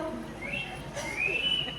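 Human whistling at a Marathi village stage play, rising thin tones heard twice over a murmuring crowd and room noise, fairly faint and brief.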